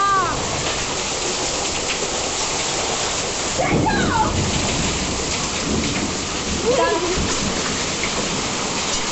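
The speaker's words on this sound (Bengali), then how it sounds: "এত মুষলধারে বৃষ্টি হচ্ছে যে কি বলবো" Heavy pouring rain from a summer hailstorm roars steadily and loudly, with a rumble of thunder in the background and a voice speaking briefly over the downpour.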